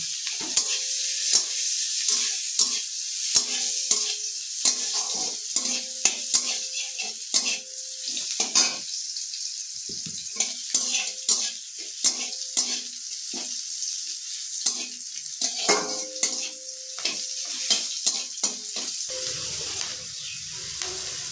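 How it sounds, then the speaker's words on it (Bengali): Capsicum and carrot fry in hot oil in a pan, a steady close sizzle broken by frequent stirring and scraping of a utensil against the pan, with no talking. "এবার আমি ক্যাপসিকামটা একটু ভেজে নেব, গাজরটাও ভেজে নেব।"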